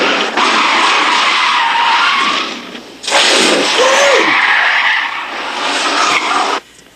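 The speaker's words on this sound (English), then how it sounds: "they like to squeal the tires and rev the engines" Heavy cars' tires squeal loudly as they skid, three long screeching bursts close by, each cutting off abruptly, with a brief engine tone in the middle.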